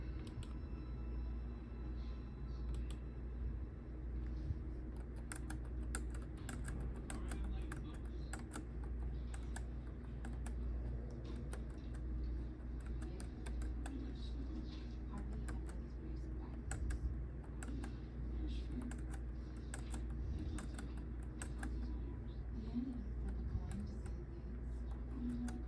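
Rapid clicking of a computer keyboard as numbers for a matrix are entered into a C program, steady irregular keystrokes over a low room hum, fairly close.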